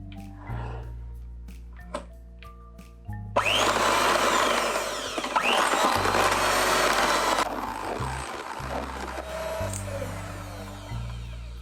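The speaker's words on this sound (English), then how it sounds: "we are going to add our sugar to the egg yolks and beat them together until they are nice and pale and frothy" An electric mixer whirs loudly as it beats egg yolks with sugar, running steadily for several seconds between softer passages with low music.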